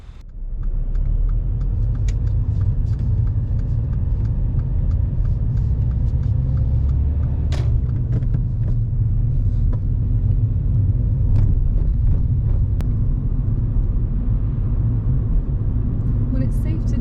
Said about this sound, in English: On this busy mini roundabout, Ram enters really well with the vehicle ahead